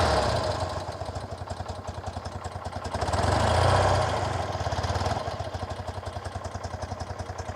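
A BMW Airhead motorcycle engine runs continuously during carburetor tuning with an oxygen sensor. It gives a close, steady throbbing idle with a fast pulsing beat that swells briefly as the revs rise in the middle, then settles back.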